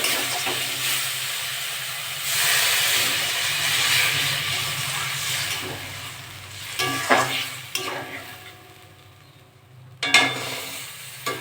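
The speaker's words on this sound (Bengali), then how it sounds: "এবার আমি জল দিয়ে দেবো" Water hitting hot fish curry masala in a home kitchen pan bursts into a loud, hissing sizzle that rises, holds for several seconds, then fades into softer bubbling with stirring scrapes and a sharp clank near the end.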